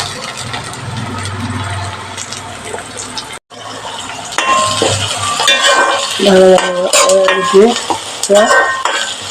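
Ginger, green chili and garlic dropped into a sizzling beef fry, close frying hiss with a short break, then louder sizzling joined by clinking and scraping of a spoon against the pan.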